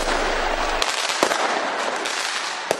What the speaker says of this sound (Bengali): জমকালো আতশবাজি আর বর্ণিল আলোকছটায় রঙিন ঢাকার আকাশ